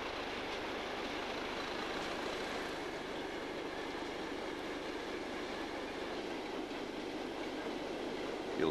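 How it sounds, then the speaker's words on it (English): A Class 37 diesel locomotive hauls a ballast train along the North Wales coast line, a steady rolling rumble of wagons passing close by for the whole stretch, without pause or voices. "37 on a ballast train, going to Penmama."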